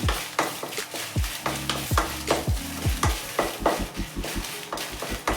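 Ingredients for a horse gram upsaaru fry in a pan while a spoon stirs them in steady, rhythmic scraping strokes over a continuous soft sizzle, close and clear.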